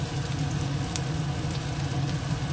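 Chopped onion and ginger frying in a pan, a steady close sizzle running evenly throughout with no talk over it.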